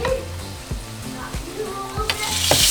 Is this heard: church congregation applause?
no